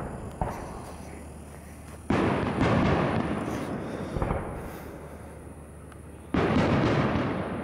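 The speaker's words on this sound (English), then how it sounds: "It's a pretty decent birthday fireworks show." A birthday fireworks show booms in the distance outside a castle, with several heavy rumbling bursts and long crackling decays filling the background, no voices.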